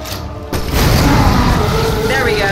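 A grenade explodes in the horror video game Resident Evil 7, a sudden loud booming blast that swells into a long rumbling roar with mechanical rattling behind it.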